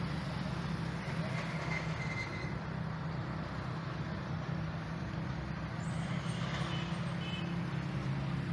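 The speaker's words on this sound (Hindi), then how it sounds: "ट्रैफिक वगैरह गुजर रही है" Road traffic passing along a roadside near open, empty ground: a continuous low rumble of vehicles going by, steady and moderately loud throughout, with no clear speech on top.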